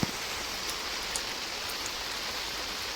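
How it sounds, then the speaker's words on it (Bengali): Steady rain falling at the start of winter, a dense even hiss filling the whole stretch with a few faint drop taps, no voices. "এই যে বৃষ্টিটা হচ্ছে বৃষ্টি কয়েকদিন ধরে বলছিল খবরে যে বৃষ্টি হবে বৃষ্টি হবে আজ সেই বৃষ্টি শুরু হয়ে গেছে"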